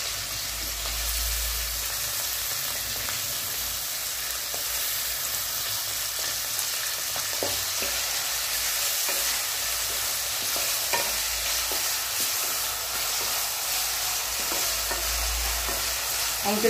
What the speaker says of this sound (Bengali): তেলে দিলাম কেটে দিয়ে রাখা আলু